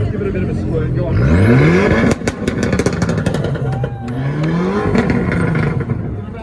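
A small Austin car at a car show revs hard close by, its engine pitch sweeping up and down in two loud bursts, with crowd noise around it.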